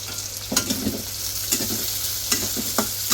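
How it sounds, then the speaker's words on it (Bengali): Oil sizzles steadily as fish is lightly fried in a pan, with occasional louder crackles and stirring scrapes, close up and without talk. "মাছটাকে ভাজি নিই মাছ হালকা ভাজা হয়ে গেছে"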